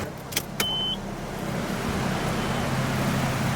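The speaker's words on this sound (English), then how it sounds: "I hear the fuel pump." Fuel pump priming on a Nissan Skyline with an RB25DET engine, a steady low electric hum that holds alone for several seconds after a couple of brief clicks.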